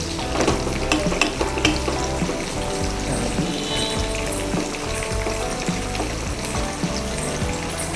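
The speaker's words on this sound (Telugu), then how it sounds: "లైట్ గోల్డెన్ బ్రౌన్ అయిన వరకు ఫ్రై చేసుకోవాలి" Cashews fry in oil in a nonstick pan until light golden brown, a steady dense sizzle and crackle that runs loud and unbroken throughout, with faint stirring clatter and no voices.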